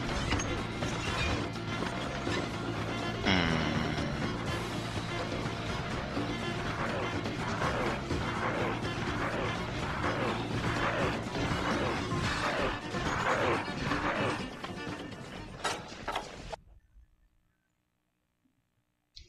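Heavy bowgun fire in Monster Hunter Tri: a dense, loud barrage of booming blasts and crashing impacts that runs continuously for about fifteen seconds, then cuts off abruptly into near silence.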